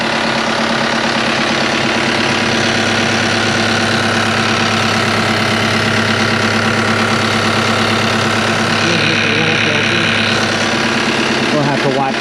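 A 2022 CAT 299D3 XE compact track loader runs its diesel engine at a loud, steady idle after an oil change, with a constant low rumble and vibration throughout.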